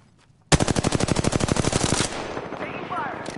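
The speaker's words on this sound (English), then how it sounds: "Taking fire." A loud, sustained burst of rapid automatic gunfire rattles for about a second and a half in a PS4 shooter game, then falls away into a lingering roar with faint electronic chirps.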